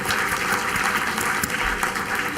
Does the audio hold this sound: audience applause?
yes